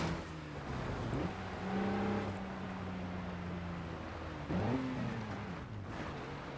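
A Jeep's engine drones steadily while driving an off-road course in Forza Horizon, revving up with sweeping pitch rises between gear changes, loud and close throughout with no talk.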